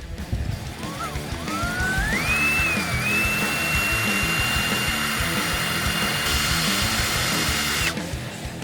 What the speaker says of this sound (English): We're going to try and drill it out